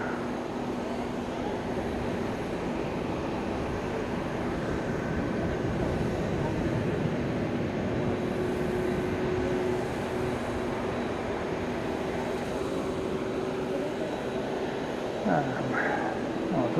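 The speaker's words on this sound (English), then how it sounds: "this really noisy aircraft coming" A noisy aircraft takes off at Fukuoka Airport, its engines a loud, steady broadband roar that fills the whole stretch without letting up, with faint voices now and then.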